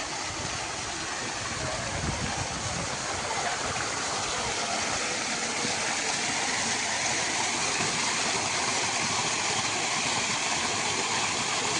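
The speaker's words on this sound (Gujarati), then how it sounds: "પાણી પડી રહ્યું છે" Water falls and splashes steadily over a Mahadev (Shiva) statue at a temple in a continuous, loud rushing wash that never lets up.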